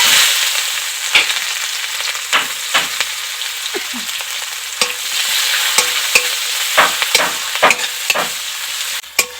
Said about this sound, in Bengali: গোটা কালো সর্ষে দেব, হাফ চামচের মতো কালো জিরে ফোড়ন দেব, পেঁয়াজ কুচি দিয়ে দেব